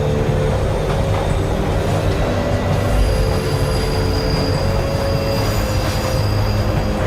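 A subway train rolls along the rails with a steady, loud rumble and faint wheel squeal, a continuous dense noise with no talking.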